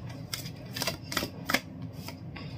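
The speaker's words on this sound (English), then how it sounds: "I'm going to just shuffle, randomly pull out cards." Tarot cards being shuffled by hand give a quiet run of soft papery riffles and light slaps, heard up close at low level.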